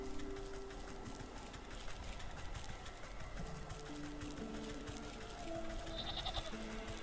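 Goats bleat in the Wytchwood video game, faint and repeated over a steady hum of background game ambience, with no talking.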